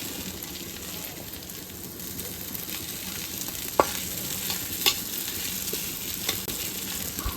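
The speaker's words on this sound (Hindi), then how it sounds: "इधर समीर के आलू भून रहे हैं" Potatoes fry in a home kitchen pan, a continuous soft sizzle with a few brief knocks of a utensil against the pan and faint talk in the background.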